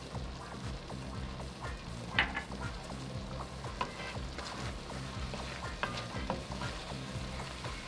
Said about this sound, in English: I'm gonna sprinkle the 2 tablespoons of flour over this and then stir it all in.